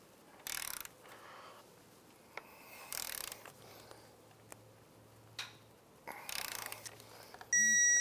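A torque wrench tightens the swingarm bolt on a KLX110 dirt bike to 58 foot-pounds, with short bursts of close mechanical ratcheting separated by quiet gaps, then a few brief electronic beeps at the end.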